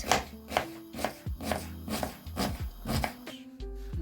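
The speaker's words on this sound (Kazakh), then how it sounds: "Осыны көбіктеп майдалап турап аламыз." An onion being chopped finely with a knife on a board, about eight crisp, evenly spaced cuts in close succession, loud and near with nothing else over them.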